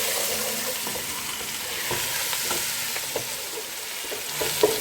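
Sausage with black pepper sautéing in oil in a pan, a steady bright sizzle with occasional soft taps and stirs, close and fairly even throughout, with no talking.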